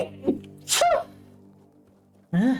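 A loud, close sneeze with a sharp breathy burst cuts in early, and a second forceful sneeze comes near the end. A brief spoken word and faint background sound fill the gap between them.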